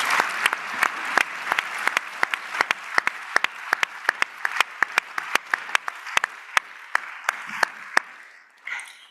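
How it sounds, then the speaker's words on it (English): A room full of people applauding a discussion panel steadily, sharp individual claps standing out over a dense patter, fading away at the end. "Please give a round of applause to this great panel."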